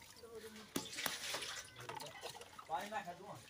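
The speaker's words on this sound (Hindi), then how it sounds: "अब इसमें पानी कर लेंगे सरफ में" Water is poured and swished by hand into a tub of detergent for washing clothes, giving faint splashing and sloshing under a voice speaking throughout.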